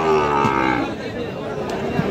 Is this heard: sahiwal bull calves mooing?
yes